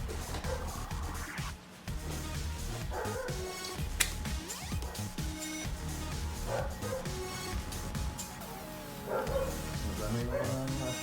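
Dogs bark and yip repeatedly at a home where pizza is being made, short sharp barks scattered through the scene with people talking over them and household clatter.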